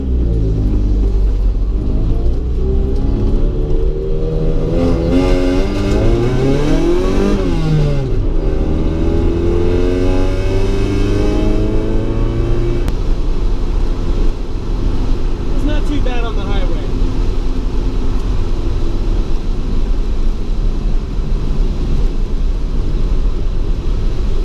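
A 1990 Honda Civic EF hatchback cruising at highway speed, a steady loud road and engine rumble throughout with shifting tonal drone, and a voice briefly speaking over it partway through.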